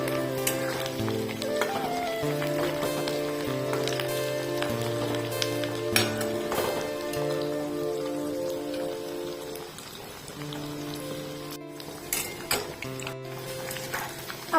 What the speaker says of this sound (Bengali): আমার পেঁয়াজগুলো লাল লাল করে ভাজা হয়ে গেছে